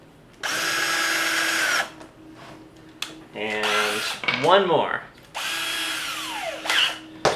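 A cordless drill drives screws in bursts: two long steady whirs bracket a stretch of short revving pulses and pitch-bending spins, with a brief spoken remark in between.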